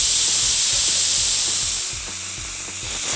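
Steady, loud hissing rush of steam escaping from a pressure cooker boiling kidney beans, close by, easing slightly toward the end, with a faint low hum beneath.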